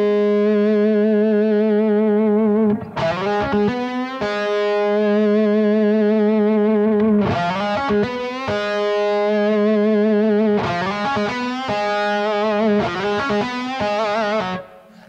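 An electric guitar played with the fingers and no pedals, its tone knob rolled down, rings out warm sustained notes and chords in several phrases, loud and close, with no talking.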